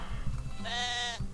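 Sheep bleating in the video game Moirai, a single sustained wavering bleat of about half a second, clear and close, set against a low background rumble.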